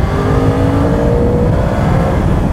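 Four-cylinder car engine pulling hard under acceleration on smooth fresh asphalt, a continuous close whirring drone with rising pitch and steady loudness, no voices.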